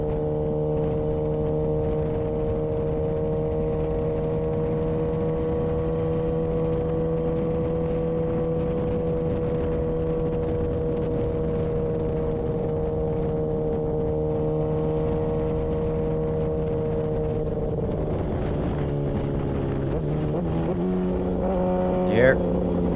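In a racing video game, a motorcycle engine holds a steady, droning tone for a long stretch, then drops through a quick series of downshifts with stepped pitch changes near the end.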